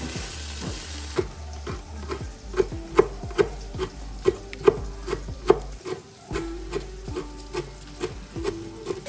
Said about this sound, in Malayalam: അപ്പോൾ മീൻ നല്ല പൊരിഞ്ഞ്